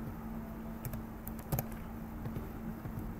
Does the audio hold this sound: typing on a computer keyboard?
yes